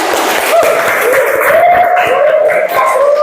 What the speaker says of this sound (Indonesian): Good, tepuk tangan.